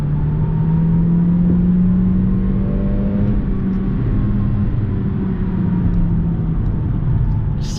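A 2022 Toyota Corolla XSE Apex engine drones steadily and revs gradually higher in a lower manual-mode gear, a continuous low rumble heard from inside the cabin with no talking.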